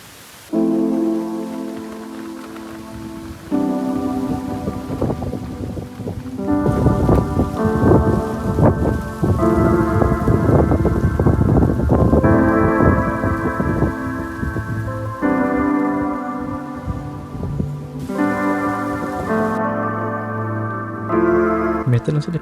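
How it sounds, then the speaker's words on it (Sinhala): Rain and thunder on the peak of Mundagiriya Temple: steady rain with rumbling thunder building through the middle, heard under a sustained tonal music bed. "පොඩි වැස්සකට අපිට අහු වෙන්න සිද්ධ වුණා"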